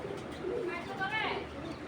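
A Kaldom giribaj pigeon gives a soft, brief coo nearby, a few rising and falling notes over light background noise.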